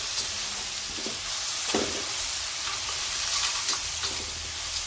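Peanuts, onion and green chilies frying in hot oil in a pan, a steady close sizzle with occasional scraping stirs and sharper crackles.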